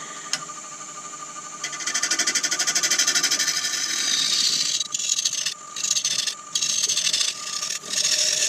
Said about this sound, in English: Turning at 750 RPM, and I'm using my round carbide to see where we can go